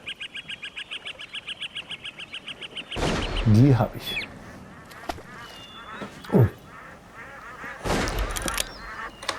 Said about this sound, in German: So, da kommt eine Ente.